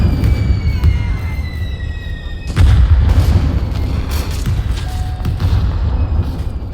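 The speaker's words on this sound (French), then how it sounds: "on se prend des obus à la tronche nous" Artillery shells explode in a Roblox World War I game, with deep booms hitting at the start and a louder blast midway, leaving rumbling impacts and distant bursts behind.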